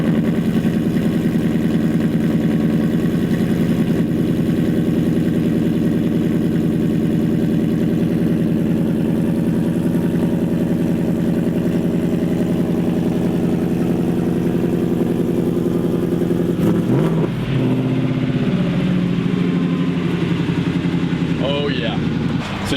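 A 1969 Ford F100 pickup with a Coyote V8 engine, heard as a steady loud engine drone throughout, with a brief clatter and shift in tone near the end.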